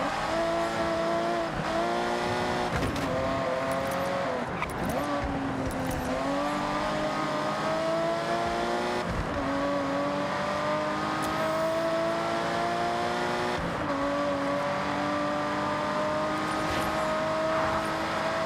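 Racing car engines in the video game Forza Horizon 6, revving continuously with rising and falling pitch sweeps through gear shifts, tire squeal and passing traffic, loud and sustained with no talk.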